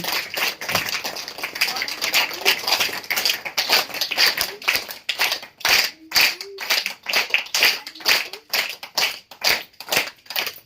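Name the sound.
audience applause welcoming a guest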